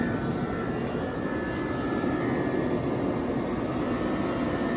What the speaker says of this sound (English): you can also hear that AC compressor is kind of loud